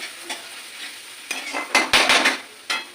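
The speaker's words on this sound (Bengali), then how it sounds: "রসুনটা দিয়ে একটু নাড়াচাড়া করে নেবো রসুনটা তেলের মধ্যে দিলে কী হয় স্মেলটা খুব ভালো হয় তেলের সাথে যদি রসুনটা ভাজা হয়" Garlic sizzles in hot oil while a utensil stirs it in scraping bursts that grow louder and denser toward the end, with a steady frying hiss underneath.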